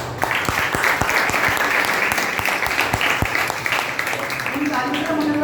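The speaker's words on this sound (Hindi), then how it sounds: "थोड़ी सी तालियां बजा दें।" An audience at a motivational talk at Alkhair Academy claps, a dense burst of applause that continues steadily, with a few louder individual claps and a voice briefly talking near the end.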